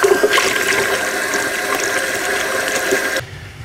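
Hot water tap running steadily to flush house plumbing on a well system, with a 40-gallon tank; a close, continuous rushing flow that cuts off sharply near the end.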